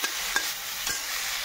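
Ingredients for a cauliflower, potato and prawn dish with poppy seed paste sizzle in a pan, a steady hiss of frying with a few soft clinks of stirring and no voices.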